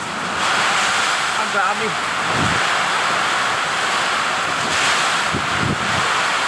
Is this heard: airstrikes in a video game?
no